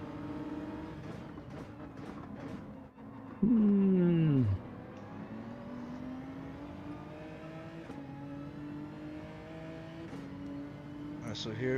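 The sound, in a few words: race car engines in Gran Turismo 7 video game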